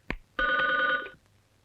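A telephone rings once in a film scene: a short electronic trill just over a second long, near and clear, after a brief knock, with no talking.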